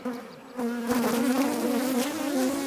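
Honey bees swarm and buzz around an open, strong hive during an egg transfer, a steady droning hum that swells after a brief lull and stays loud and close, with no speech.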